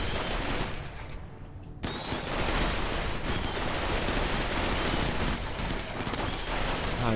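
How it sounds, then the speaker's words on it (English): Colonists in the video game RimWorld fire continuous rapid gunfire, dense bursts of shots crackling almost without a break after a short lull near the start. "Why are you guys shooting each other? Shoot what's in front of you"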